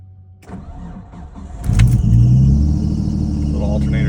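A Nissan Skyline R33 with about 246,000 kilometers cranks for a moment, then fires and settles into a loud, close idle with a brief alternator squeal on top.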